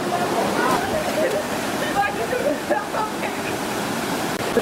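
Rushing water from a waterfall near Rishikesh, India fills the scene with a constant broadband roar and spatter, close and steady throughout.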